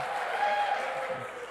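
A live audience cheers and applauds at an event, a steady wash of clapping and crowd noise that stays even throughout the brief moment.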